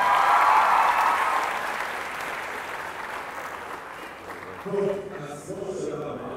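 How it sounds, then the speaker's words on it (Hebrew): Audience applause for a contestant on a talent show semifinal, loud clapping that fades over a few seconds, followed by scattered talk and brief vocal sounds. "כפיים לראיה"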